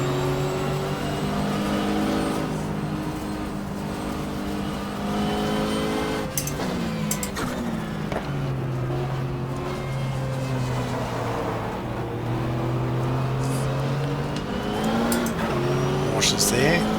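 Race cars from the GTR2 racing game lapping the 1995 Daytona 24 Hour, including the Momo Ferrari, with a steady engine drone that rises and falls through shifts and revs, and a commentator talking over it throughout.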